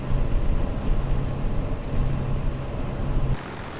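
Propeller aircraft engine in the Prepar3D flight simulator drones steadily with a low hum while flying the traffic pattern at Kiruna, then drops in level near the end.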